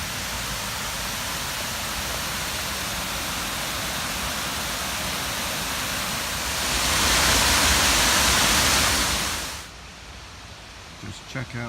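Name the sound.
River Wye flowing water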